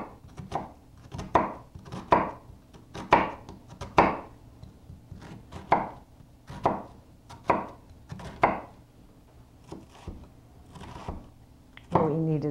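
A knife slices a red onion on a cutting board in a series of crisp, evenly spaced cuts, about a dozen over several seconds. The cuts sound close and clear in a quiet room.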